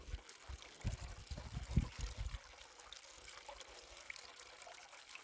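Water runs and splashes during gold prospecting in Australia, loud gushing bursts for the first couple of seconds, then settling into a faint steady trickle.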